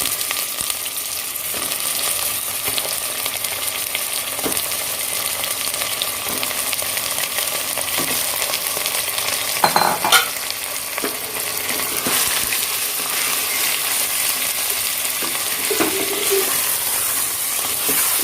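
Mutton frying with onions in a pan for Buhari rice, a steady moderate sizzle throughout with periodic scrapes and knocks of a stirring spoon, including a sharper clatter around ten seconds.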